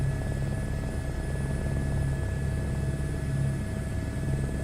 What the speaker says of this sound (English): I am flying a helicopter in Microsoft Flight Sim 2024